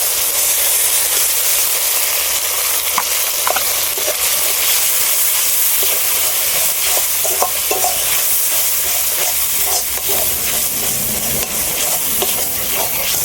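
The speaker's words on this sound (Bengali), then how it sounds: "মশলাটা একটু হালকা করে একটু ভেজে নিয়েছি, আর মশলা দিয়ে তেলও ছেড়ে দিয়েছে।" Spice paste with turmeric, tomato and onion sizzles steadily in hot oil, a loud continuous frying hiss with scraping stirs and small pops throughout, no voices.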